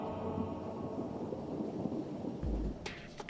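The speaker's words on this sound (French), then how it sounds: "un éclair violent touche directement l'un des haubans." Thunder from a lightning strike on the stay cable of a cable-stayed bridge in Greece, a low rolling rumble over steady rain, with a deeper boom near the end.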